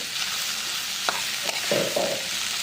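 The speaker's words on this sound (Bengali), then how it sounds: "ভালো করে এটাকে কষতে হবে।" Salt, turmeric, coriander and chili powder sautéing in a pan for a leafy-green curry, a steady close sizzle with a few short stirring scrapes of the spoon near the end.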